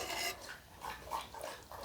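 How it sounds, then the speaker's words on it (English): A dog lapping water close by, quick wet slurping laps in a steady rhythm, fairly quiet with no voices. "One of them's drinking water right now."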